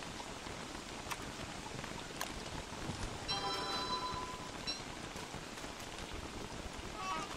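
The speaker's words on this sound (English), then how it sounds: "it's also going to protect us from more rain" Rain falls steadily in the survival video game Don't Starve, a dense, even hiss of drops throughout with faint tinkling game tones briefly rising over it midway.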